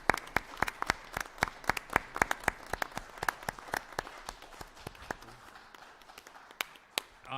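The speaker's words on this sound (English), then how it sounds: "So if you give them a round of applause for that." A small group at a school board meeting claps steadily, the individual claps distinct; the clapping thins out and trails off to a few scattered claps at the end.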